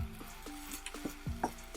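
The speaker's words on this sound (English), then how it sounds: "we are going to mix it with the rice." A spatula stirs scrambled egg into cauliflower rice in a hot pan, giving soft repeated scraping taps about every quarter second over a low, steady sizzle, close and moderate in level.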